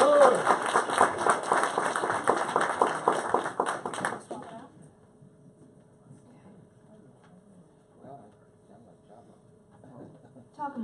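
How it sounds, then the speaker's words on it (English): A conference keynote audience claps in a loud burst of applause for about four seconds, then it stops and a few quiet voices and shuffling remain. "Give him a round of applause."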